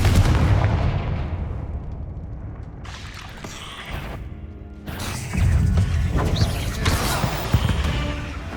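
A Confringo blasting spell explodes in Hogwarts Legacy, a loud booming blast with rumbling debris that fades, then a second heavy burst and crackle, close and alone with no talking.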